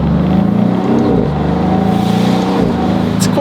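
A 2025 Maserati GranCabrio Trofeo convertible's V8 engine runs with a steady, loud, deep rumble that swells briefly as if being revved, continuous throughout without speech.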